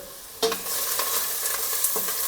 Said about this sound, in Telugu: ఆయిల్ వేసుకున్నాం కదా వేడెక్కింది ఇందులో ఉల్లిపాయలు పోసుకోవాలి కొద్దిగా కరివేపాకు పచ్చిమిర్చి